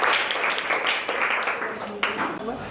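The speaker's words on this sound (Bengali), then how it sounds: "সবাই জোরে হাততালি দাও একটু।" A crowd claps loudly and steadily at a pre-Puja clothing distribution at Barasat Anweshan Ashram, as a small child is called forward. The dense, continuous clapping fills the whole stretch with a few sharper claps standing out.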